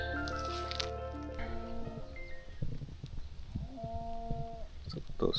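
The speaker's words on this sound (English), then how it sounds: "cows mooing in the distance." Cattle lowing in the distance near an overnight hammock campsite, a few drawn-out harmonic moos layered over low outdoor rustle and faint background sounds.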